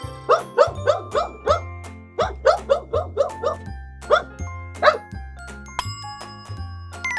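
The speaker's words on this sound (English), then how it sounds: "Dog." A dog barks in a rapid run of sharp, loud barks, then a few scattered ones, over plinking background music.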